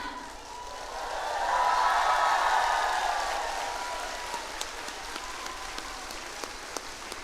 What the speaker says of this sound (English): A big round of applause once again.